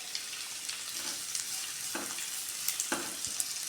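Garlic and onion frying in oil in a pan for cauliflower kurma, giving a quiet, steady sizzle with a few soft scrapes and taps of a utensil.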